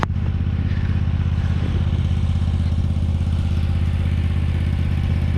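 A lawnmower engine runs steadily while mowing, a loud close-up drone with a fast, even putter and faint clatter, holding constant throughout with no talking.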